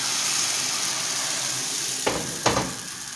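Lahoh batter poured onto a hot, lightly oiled good-quality pan, giving a steady broadband sizzle with two sharp bursts of hissing as the batter hits the surface.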